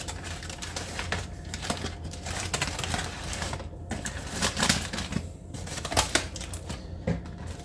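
Aluminum foil being peeled back from barbecued pork ribs glazed with barbecue sauce, giving close, continuous crinkling and crackling for several seconds without any speech.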